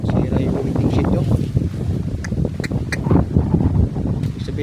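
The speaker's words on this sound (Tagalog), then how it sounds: "malakas talaga yung hangin" Loud gusting wind from Typhoon Opong roars and buffets the microphone continuously by the sea, with faint voices partly buried beneath it.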